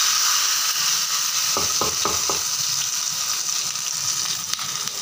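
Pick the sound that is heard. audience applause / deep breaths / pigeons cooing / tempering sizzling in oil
tempering sizzling in oil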